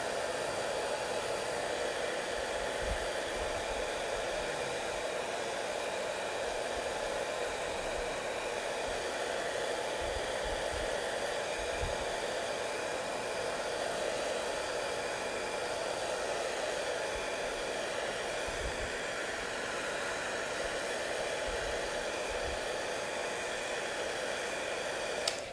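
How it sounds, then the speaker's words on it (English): A hair dryer blows on wet watercolor paint, giving a steady, unbroken whooshing roar that lasts throughout, with only faint bumps in the background. "using the hairdryer like this does change the final effect"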